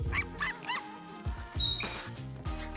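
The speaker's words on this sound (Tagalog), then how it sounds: "Sigurado ako, aso yung naririnig ko." A small dog yips and whimpers in short high bursts, several in a row, over a steady low background hum, fairly faint and without talk.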